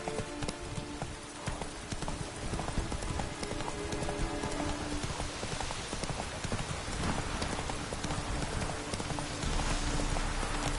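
A horse galloping in the video game The Witcher 3, with rapid continuous hoofbeats over a steady rain-like background, loud and unbroken throughout.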